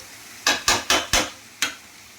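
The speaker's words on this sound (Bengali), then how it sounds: "কাঁচা লঙ্কা হালকা করে লাল মির্চি দিয়েছি, দিয়ে এটা ভালো করে কষছি।" Green and red chillies being stir-fried in a pan, heard as five sharp scraping strokes of a spatula against the metal, spaced about a quarter second apart with a short pause before the last, close and fairly loud with no talk.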